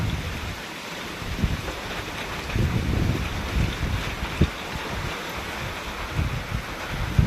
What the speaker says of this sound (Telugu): కొట్టి కొట్టి వాన చూడండి, చల్ల గాలి, ముసురు, చినుకులు పడుతూ ఉన్నాయి.